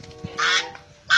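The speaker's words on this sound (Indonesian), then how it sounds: "ternyata ini bebek, bebek angsa" A long-necked domestic goose honks, a brief low call followed by a loud, sustained nasal honk and then another loud honk at the close, all heard close up with no talking.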